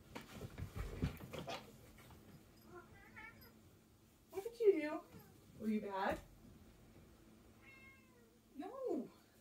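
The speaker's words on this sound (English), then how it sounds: "I heard your meows." A cat meows several times, drawn-out and plaintive, while a person talks to it softly between the cries.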